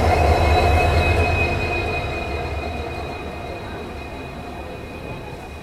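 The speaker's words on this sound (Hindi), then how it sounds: "सामने में जो आप ट्रेन देख रहे हैं ये है भोपाल जोधपुर एक्सप्रेस ट्रेन" The Bhopal Jodhpur Express stands at a station platform, its loud, continuous rail rumble and metallic tones gradually easing in volume, with no voices standing out.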